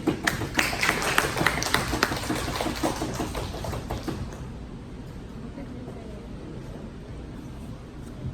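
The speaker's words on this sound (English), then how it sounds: "So can we get a round of applause?" A small audience at an informal team presentation claps for a few seconds, sharp and close, then the clapping stops abruptly and leaves quiet room tone.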